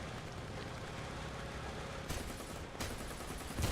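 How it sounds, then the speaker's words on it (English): 20mm autocannon fire in the War Thunder tank game, with AS-42, L6/40 and AB-41 vehicles in the match. Steady battle noise carries two sharp, loud bursts near the end. "Now as you can see a lot of 20mm fire from auto cannons."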